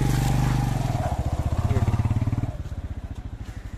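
A motorcycle on a mountain road draws closer, its engine thumping in a loud, rhythmic putter that rises and falls as it labours along, with no one speaking.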